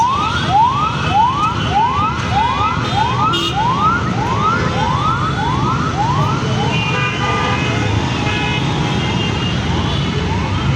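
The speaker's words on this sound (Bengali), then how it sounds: "এত অ্যাম্বুলেন্স," Ambulance sirens wail on a busy road near an elevated expressway, a repeating rising-and-falling tone cycling steadily and loudly for most of the stretch, over continuous traffic rumble.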